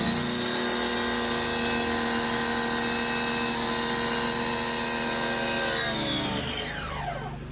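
Electric pressure washer running steadily with the spray gun held open, a loud even whine and hiss that holds level for several seconds, then winds down as it shuts off.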